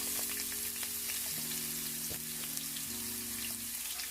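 Onions fry gently in olive oil for a Jamaican coconut curry chickpea stew, a faint, steady sizzle with small crackles under a low droning tonal background.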